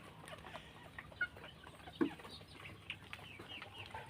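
Free-range chickens cluck softly in a farmyard among turkeys and ducks, giving scattered faint calls from a short distance with one slightly louder cluck.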